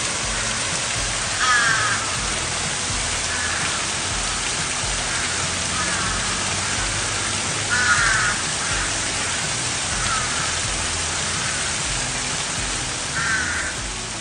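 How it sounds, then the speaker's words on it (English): American crows caw in chorus over a farm field, several harsh calls repeating at intervals, some close and some farther off, against a steady rain-like hiss of outdoor noise. "And the caw caw chorus."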